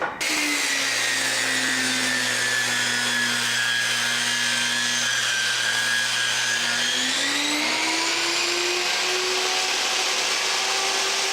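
A power saw rips a thin strip off a tall wood block in a woodshop, a loud, steady whine held for the whole stretch, its pitch sagging slightly under load and then rising again near the end, with no talk.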